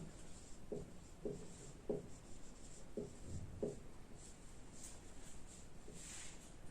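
Chalk or marker strokes on a board write out a district name, with five or six short, distinct scratching strokes in a quiet room and no talking.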